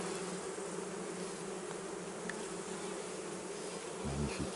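Bees swarm and buzz continuously around Layens hives built in natural construction, a dense, steady drone close by with no pauses and a brief low thump near the end.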